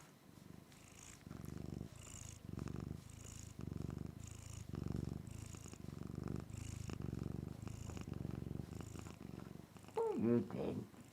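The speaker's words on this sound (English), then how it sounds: "What are you meowing about?" A cat indoors purrs close and steady in long rhythmic cycles, then lets out a single short meow near the end.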